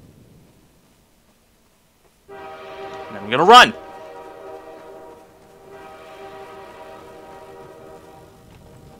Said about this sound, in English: I'm gonna trigger the train.